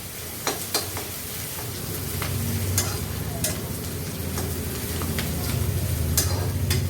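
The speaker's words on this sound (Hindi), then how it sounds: "इसको रेड होने तक भून लेना है।" Chichinda (snake gourd) pieces fry in a pan while being stirred, a steady hiss and sizzle with sharp scraping clicks of the spatula scattered throughout, close and continuous.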